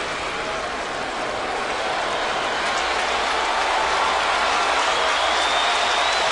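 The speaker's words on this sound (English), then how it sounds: "the crowd is cheering that fact" A Yankees ballpark crowd cheers and applauds in a steady, broad roar that fills the stadium without letup, loud and continuous.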